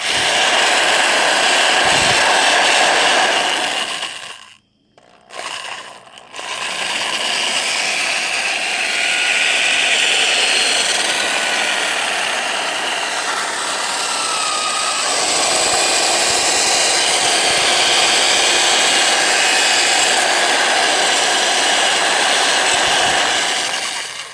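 A loud power drill spins a coat hanger to blend watermelon, whirring steadily with a rough, churning blend, stopping briefly near the start before running on continuously.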